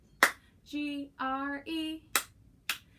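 A person claps by hand several times in a slow, spaced rhythm, sharp close claps alternating with sung or spelled-out vocal phrases in a quiet room.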